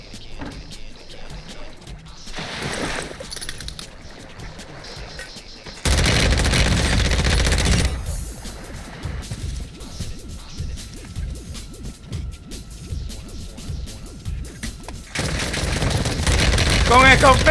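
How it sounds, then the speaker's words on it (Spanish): Shotgun blasts and heavy gunfire in the Warzone video game, arriving in loud bursts with crashing impacts, broken by quieter stretches where a voice talks. "¡Con escopeta!"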